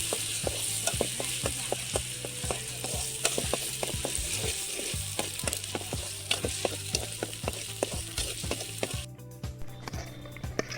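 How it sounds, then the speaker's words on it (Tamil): Ground masala paste sautéing in hot oil in a kadai for village-style country chicken curry, a constant close sizzle punctuated by regular sharp spatula scrapes and taps against the pan. "சூடானதும் அரைச்சி வச்ச விழுதியும் சேர்த்துட்டு நல்லா பச்சை வாசனை போகிற வரைக்கும் ஒரு வாட்டி நல்லா வதக்கி விட்டுடுங்க"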